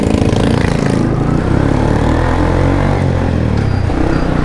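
A motorcycle engine with about 28,000 on the odometer and weak front brakes runs steadily close by, a loud, even drone with a throbbing low rumble throughout and no voices.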